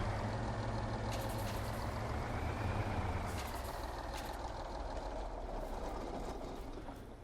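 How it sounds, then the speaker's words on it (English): A truck in Farming Simulator 22 idles and creeps to a stop on a dirt road, with a steady, loud engine drone, a hiss like an air brake and a gradual fade toward the end. "I'm just going to park our truck up here on this dirt road."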